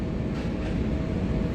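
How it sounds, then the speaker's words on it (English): Steady, loud rumble of a train running on rails, a continuous low roar with broad hiss that holds even throughout, heard alone without voices. "Alright, so let me just get into this train before"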